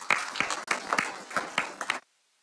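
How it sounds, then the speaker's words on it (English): A modest audience at a university graduation awards ceremony claps in a thin, uneven patter of distinct hand claps for about two seconds, then stops abruptly into silence. "please, a round of applause for Cadet James"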